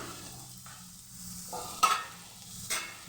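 Rice poured into onions frying in a pan, then stirred: quiet soft sizzling with a few sharp scraping stirs and a louder clatter near the end, no voices.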